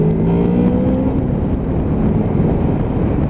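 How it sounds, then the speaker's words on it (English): A 2013 Honda VFR 800 motorcycle with twin underseat exhausts, two exits on each side, is ridden under load, producing a loud, steady engine roar with a rising whine, heard up close. "the whine off of those exhausts"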